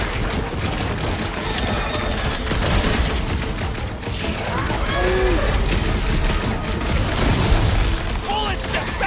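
Continuous gunfire and booms in the game Marvel's Guardians of the Galaxy, a busy barrage of pops, bursts and mechanical clanks running throughout, with voices speaking over the combat.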